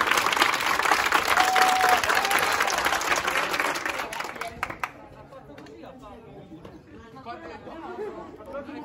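A studio audience at an Italian TV show claps hard and steadily on cue amid chatter, then the applause breaks off and talk continues.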